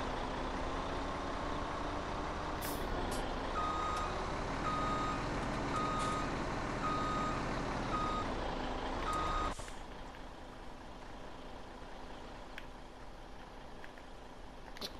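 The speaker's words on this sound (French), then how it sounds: "Ah, attends, c'est le camion, t'es sérieux." A truck on an Ardèche farm reverses with a steady, evenly spaced beeping alarm over a loud rumbling engine. The engine and beeps stop abruptly partway through, leaving a quieter background.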